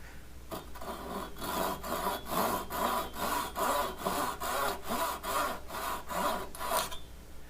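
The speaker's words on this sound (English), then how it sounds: "try to get it as close to make the cut as close to the fretboard as you can without scuffing up the surface." A hand saw cuts a dowel flush against a cigar box guitar fretboard, making about a dozen even, close rasping strokes in a steady back-and-forth rhythm with no voices.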